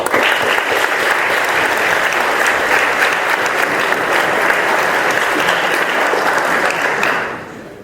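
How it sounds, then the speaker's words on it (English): An audience at a Cambridge debate applauds a speaker with loud, dense, sustained clapping that holds steady for several seconds before tapering off at the end. "Please, for one round of applause."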